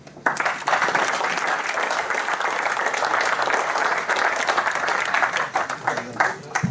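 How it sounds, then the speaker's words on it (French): A crowd at a French football club's anniversary celebration applauds volunteers, sustained dense clapping that swells, holds steady, then thins out near the end. "qu'on applaudisse les bénévoles de tous les clubs de France"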